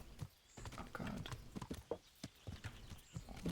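Horse hooves in Kingdom Come: Deliverance clip-clop in a quick, steady rhythm at low volume, with a brief whinny-like sound mixed in.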